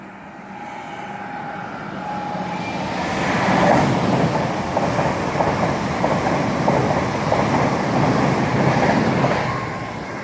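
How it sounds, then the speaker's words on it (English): An IET train from London Paddington to Penzance passes a road overbridge, swelling from a distant rumble into a loud, sustained roar with a rhythmic clatter of wheels, then easing slightly at the end. "we then have an IT going through from London Paddington to"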